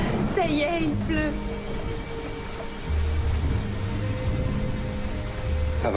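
Steady rain falls under a film scene, a broad hiss running throughout, with low rumbling swells and a few voices speaking briefly over it.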